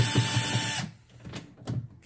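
A cordless drill drives Phillips screws in a loud, close burst of whirring that cuts off abruptly, followed by a few faint clicks and short tool noises.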